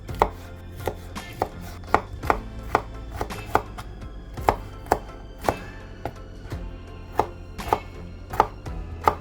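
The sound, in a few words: chopping broccoli stem and florets into bite-sized pieces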